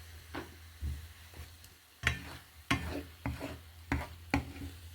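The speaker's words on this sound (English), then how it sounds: "Sit a little bit and cook those eggs through." Eggs and vegetables for a Cypriot dish cook in a pan with a soft, steady sizzle, broken by several sharp scraping stirs of a utensil spaced about half a second to a second apart.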